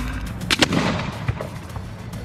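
Fireworks set off in a fire department safety demonstration, a sharp series of loud cracking pops and bangs spaced irregularly, the biggest cluster early, then fading crackles.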